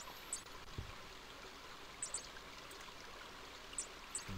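Flowing stream water in the video game King's Quest V, a soft steady trickling wash with a few faint high chimes scattered over it, quiet and alone.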